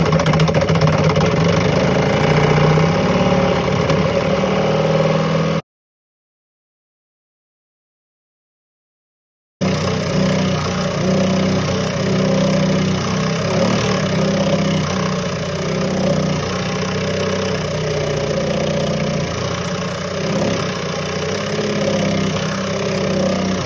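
An impact driver whirs and rattles steadily at close range, boring through a panel on a 2020 Yamaha YXZ side-by-side, grinding on for long stretches around a brief gap of silence.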